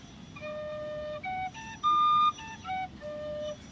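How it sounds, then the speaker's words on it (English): Low whistle played in the low octave, a run of sustained breathy tones shifting between pitches, with a louder, brighter held note near the middle, played alone. "how do you play the low octave on this one? I'm barely breathing and I'm already in the high octave"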